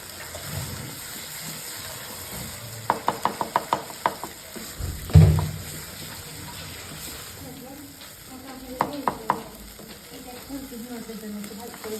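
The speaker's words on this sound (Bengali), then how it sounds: "এখন সবার শেষে হচ্ছে একটা ডিম দিয়ে এটাকে নাড়াচাড়া করবে" Duck egg being stirred into a banana stem mixture in a sizzling pan, with bursts of quick utensil clacks and scraping over a steady frying hiss and low background murmur.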